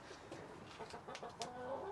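Chickens cluck softly inside a DIY chicken coop, with scattered short calls that rise and fall over a quiet background.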